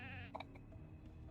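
Sheep bleating in the Ultima Online video game: one wavering, quavering bleat up front, followed by soft game ambience and a few faint clicks.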